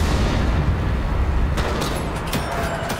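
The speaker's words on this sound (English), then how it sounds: "Look, I can throw grenades as well." A grenade going off in a Normandy invasion video game, a loud, deep rumbling blast that fills the first half and then fades into a thinner, crackling tail.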